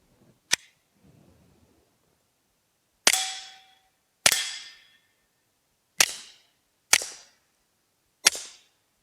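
A suppressed rifle fires subsonic rounds, five sharp cracks spaced about a second apart after an earlier single shot, each short and snappy with a quick decay and no voices.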